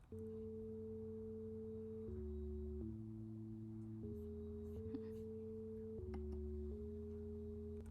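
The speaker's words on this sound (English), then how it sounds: "this is a sine wave" A synthesizer oscillator sounds a sustained, smooth sine-like tone that steps between several pitches, each held a second or two, with a steady level throughout and no talking.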